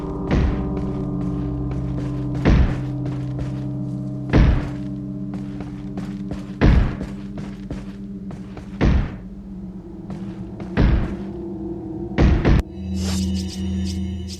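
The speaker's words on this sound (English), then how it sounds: "bashing on the cupboard now" Cupboard being bashed repeatedly in the Resident Evil 4 video game: a series of about seven loud, sharp wooden thumps at a steady, spaced rhythm over a low game background hum.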